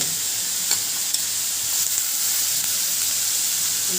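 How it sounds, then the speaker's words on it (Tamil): Steady, loud sizzling of chopped capsicum and onion sautéing in a hot pan, with a few soft scraping stirs and no voices. "எல்லாத்தையும் போட்டு வதக்க வதக்கணும்"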